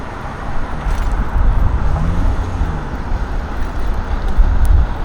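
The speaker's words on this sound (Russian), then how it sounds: "Так, сзади машина." A car approaches from behind and passes on a city street, its steady engine and tyre rumble filling the low end, loud and close amid continuous road noise.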